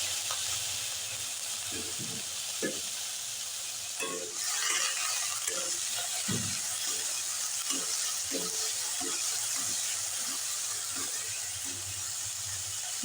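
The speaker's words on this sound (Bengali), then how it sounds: "এবারে আমি সবজিটা দিয়ে দিলাম" Broccoli, carrot and onion fry in a pan with a steady soft sizzle, punctuated by a regular series of low knocks and scrapes from stirring, close and without speech.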